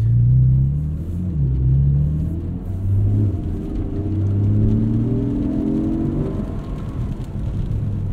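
A 2024 Porsche 718 Cayman GTS 4.0 with PDK gearbox, driven on the road, gives a steady close engine rumble that rises and falls in pitch as it revs and shifts, with no talking.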